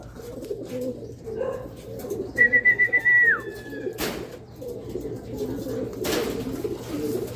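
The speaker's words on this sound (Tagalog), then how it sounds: "So, yan yung mga ibon natin guys. Nagdadatingan na." Racing pigeons cooing as they arrive at a loft ahead of a derby race, low soft coos running throughout, joined by a brief whistle and sharp flutters or claps, with faint talk in the background.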